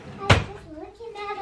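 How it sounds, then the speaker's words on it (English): A drawer is shut with a single sharp knock early on, followed by soft household sounds and faint voices of a child and adult nearby. "Briella, shut his drawer."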